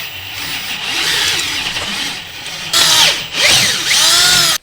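Power drill stepping a hole up from 3/8 to almost 1/2 inch in a damaged aluminum dirt bike engine case, a loud close whine that rises and falls in pitch as the bit bites and speeds up.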